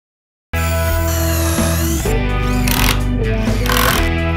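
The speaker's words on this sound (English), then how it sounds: "Power tools this time" A power tool used to resurface a wooden cutting board starts abruptly and runs loud and steady, its whine shifting in pitch as it works the wood, with no talking.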